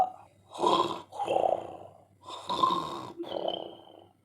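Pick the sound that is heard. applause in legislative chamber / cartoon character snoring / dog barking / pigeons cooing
cartoon character snoring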